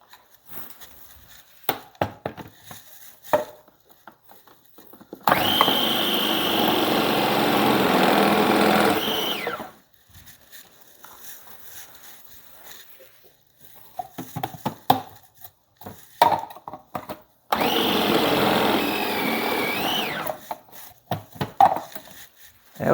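A food processor whirs loudly in two bursts of about four seconds each, chopping onion, with quieter knife chopping and handling noises between the runs.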